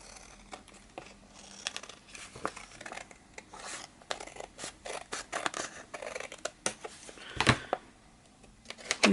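Scissors cutting the end off junk journal material, a string of close, quiet snips and crisp paper crinkles in an irregular rhythm, with no talking.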